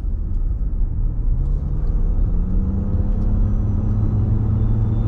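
A Nissan Fairlady Z NISMO fitted with NISMO parts drives along, its engine a steady, loud low rumble with a slowly rising tone, heard from inside the car with no talking.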